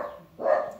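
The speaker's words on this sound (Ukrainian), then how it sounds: "Вибачте, клятий собака, я ще не добрався до нього" A dog barks once nearby indoors, a single mid-pitched bark rising out of a quiet room background, with no talk.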